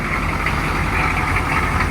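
A 1985 GMC Suburban with dual exhaust idles on a cold start, a loud continuous rumbling drone heard close up with no voices.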